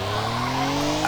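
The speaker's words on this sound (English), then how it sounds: "The Ford Mustang sounds so weird with that engine." A Ford Mustang with a swapped engine in the OverDrift Festival racing game holds a loud, constant engine drone with rising harmonic tones and a hint of tire squeal, all in one short stretch.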